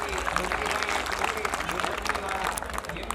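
An audience at a family community get-together bursts into dense, sustained clapping for several seconds, a steady roar of hands with voices mixed in.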